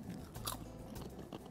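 Close-up crunching as someone bites into a crunchy mix of nuts with dried fruit and wholegrain cereal, giving several sharp, crackly bites and chews in quick succession at a soft, near level.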